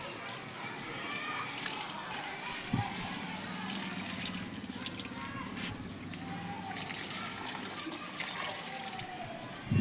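Steady splashing and trickling water runs throughout as newly planted trees are watered on a rooftop terrace, with a couple of brief knocks; children's voices and chatter are faintly audible in the background.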